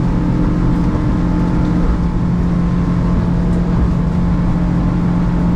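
A Yamaha F200 outboard motor on a 2008 Seaswirl 2301 Striper boat drones steadily and loudly throughout at about 5200 rpm, a constant low engine rumble with no pauses.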